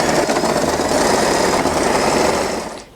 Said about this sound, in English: we are going to sew all around the fabric and leave an opening right in the center